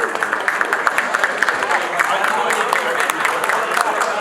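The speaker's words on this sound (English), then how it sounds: "Please give her a big round of applause." An audience at a Croydon business association event applauds a professional violinist, giving moderately loud, steady clapping with some voices mixed in.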